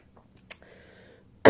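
A man coughs in one sharp burst partway through, then a loud harsh cough bursts in at the end, close and alone with no talk, while he struggles with a sore throat.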